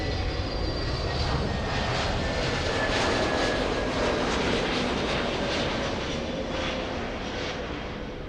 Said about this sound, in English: It's American Airlines flying in from Dallas.